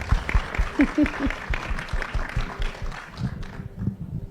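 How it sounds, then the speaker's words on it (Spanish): Audience at a natural gas conference panel gives brief applause, scattered and uneven claps thinning out toward the end, with some voices and room noise mixed in. "Aplausos, por favor."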